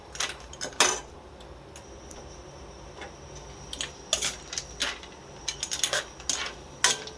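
A utensil stirs snails cooked in coconut milk with pechay in a cooking pot. Sharp metallic clinks and scrapes come at irregular moments over a faint steady background, with no talking.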